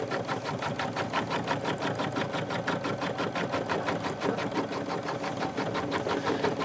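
A sewing machine stitches freestanding 3D flowers onto wire, running at an even rapid rhythm of needle strokes, close and steady throughout with no talking.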